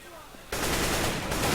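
A machine gun fires in CS:GO on the de_inferno map: after a brief quiet moment, a loud, continuous burst of automatic fire starts abruptly and keeps going.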